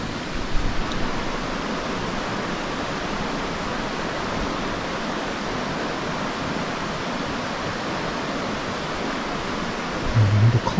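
A nearby river flows in a continuous, even broadband rush at a steady level, with no gaps, beside a tunnel and walls packed with sandbags.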